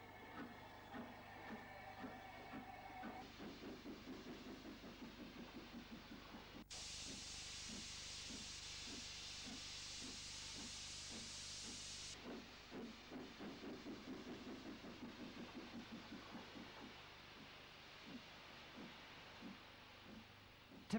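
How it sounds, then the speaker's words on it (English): Steam locomotive City of Salford sets off from a station with rhythmic chuffing beats, interrupted by a loud burst of steam hiss lasting several seconds before the even exhaust beats resume. "City of Salford begins its 112-mile journey to Glasgow"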